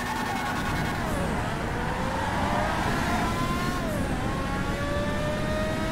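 A car in modded GTA 5 revs hard while its wheels spin in place, a steady loud engine drone with rising and falling pitch sweeps and a constant roar of tire noise, with no voices.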